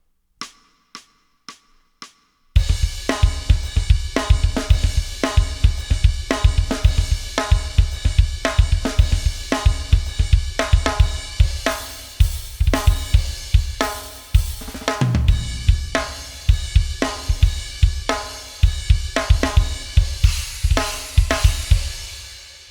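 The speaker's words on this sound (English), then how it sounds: "It starts with a 4 count click, and then it comes into the song." Drum track programmed in Reason software, opening with four sparse count-in clicks before a loud, busy full kit beat with snare rolls and cymbals runs steadily to the end, no voices.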